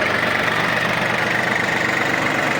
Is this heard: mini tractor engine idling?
yes